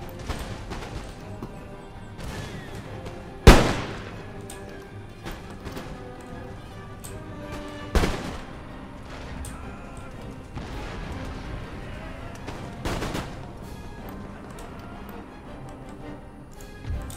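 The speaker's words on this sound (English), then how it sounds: "switch back to round shot and just keep firing at incoming troops." Scattered cannon and musket fire on an Empire Total War battlefield: a few sharp, separated booms several seconds apart, the first loudest, over a steady clatter of battle ambience.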